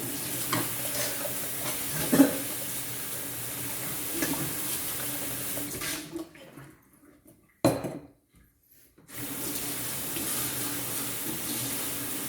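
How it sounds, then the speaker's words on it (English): A glass is rinsed under a running tap for a cocktail, a steady hiss of flowing water with splashing clinks, cut off briefly twice before resuming; no voices. "Now, for my version, first I'm gonna rinse this."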